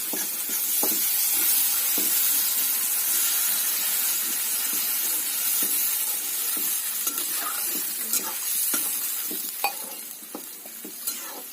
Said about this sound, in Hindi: पानी पानी डालने जा रहे हैं, पानी ऐड करने जा रहे हैं।